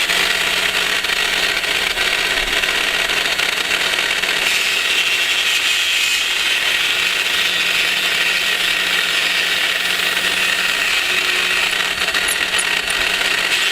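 A machine cuts a 0.2 mm deep pass while the workpiece moves left to right, giving a steady, even grinding whir with a faint low hum underneath. It holds at constant loudness throughout, with no talk.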